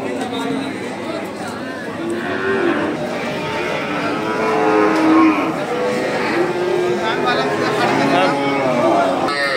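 Cattle at a busy rural cattle market moo repeatedly in long, low calls, some near and some farther off, over a steady murmur of crowd chatter and people talking.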